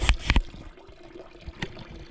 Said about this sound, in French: Là, je puise mon eau.